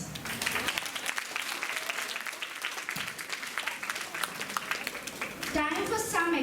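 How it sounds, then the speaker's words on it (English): Audience applause at a National Science Day institute event, steady dense clapping from a crowd held at moderate volume for several seconds, swelling slightly toward the end. "Let us have a loud applause."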